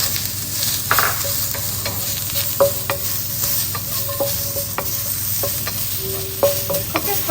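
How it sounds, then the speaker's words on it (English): Onions sizzling in a tablespoon of oil in a wok over high heat, with a steady frying hiss and repeated sharp scrapes and clinks of a stirring utensil against the pan, close and alone without any talk. "With the wok on high heat again, we're going to add about 1 tablespoon of oil. Into the wok, we're going to add the onions."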